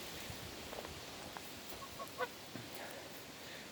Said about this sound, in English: Those are some Toulouse geese